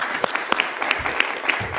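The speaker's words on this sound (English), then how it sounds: "Let's give her a round of applause." An audience gives a round of applause as a speaker is brought on stage at a motivational event, with steady clapping and a few sharp individual claps standing out, plus brief cheers.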